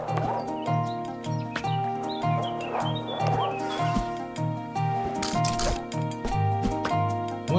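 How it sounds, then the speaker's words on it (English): Horse noises in the video game Surmount, a busy mix of neighs and clip-clop hoofbeats over looping game music, moderately loud. "Horse."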